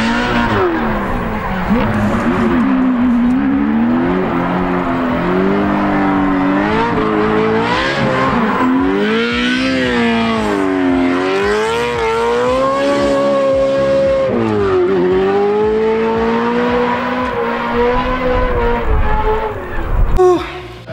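A drift car with a NASCAR engine and supercharger, making roughly 800 to 1000 horsepower, screams loudly and close at high revs, its pitch rising and falling with repeated shifts and throttle swings for the whole run.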